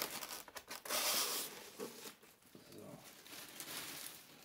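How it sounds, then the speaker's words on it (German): A plastic bag is pulled off a half-scale Diamond Select Toys Hulk bust during an unboxing, giving loud close crinkling and tearing rustles in bursts, then steadier softer rustling. "Tüte abnehmen."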